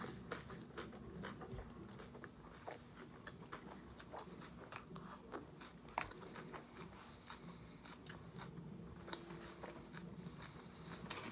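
Close, quiet chewing of a Korean bossam wrap of pork belly, with soft wet crunches and smacking bites repeating steadily throughout, no talk.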